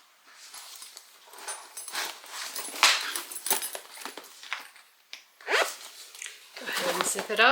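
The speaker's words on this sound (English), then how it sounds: "Go ahead and zip it up." A zipper being run along a sewn Lusso hobo shoulder bag, several scratchy zipping passes of varying length, close and moderately loud, with a dog faintly present.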